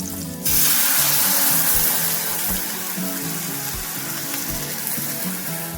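Water is poured into a hot pan of fried potato and green chilli in ghee, bursting into a loud, steady hiss and rushing sizzle that continues throughout, close by and without talk.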